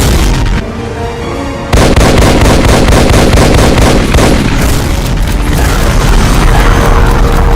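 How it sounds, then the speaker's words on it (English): Legendary BFG 9000 shots from a Mastermind enemy in a Doom mod: loud booming blasts and heavy rapid explosions, a short lull followed by a dense continuous barrage of thunderous impacts. "It can fire legendary BFG 9000 shots,"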